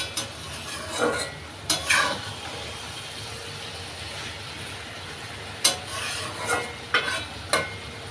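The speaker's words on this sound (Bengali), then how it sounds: "ঢাকনা নামিয়ে আবারও নাড়াচাড়া করে নিচ্ছি" Pumpkin, potato and Malabar spinach frying in a pan with a spatula stirring through them: soft steady sizzle underneath scattered scraping strokes, close and moderately quiet, no talk.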